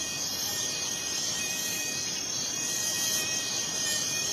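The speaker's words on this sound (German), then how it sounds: "Mücken, ja. Und Motten und andere Insekten." Dense, steady chorus of night insects, crickets with mosquitoes and moths, buzzing and trilling continuously in a radio-play scene, a constant high shimmer with no talk over it.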